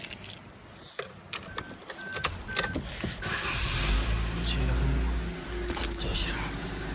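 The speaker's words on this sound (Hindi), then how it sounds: "स्टार्ट कर रहा हूँ गाड़ी।" A Maruti Baleno is started after keys jangle and a door thuds; the engine catches with a low rumble that settles into a steady idle close by, with someone speaking quietly before it.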